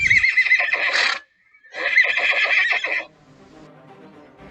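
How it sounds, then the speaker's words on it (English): A horse gives two loud, close whinnies with a short gap between them, and softer hoof clatter trails off afterward, with no voices. "The horse had an extraordinary energy, and it was difficult to tame"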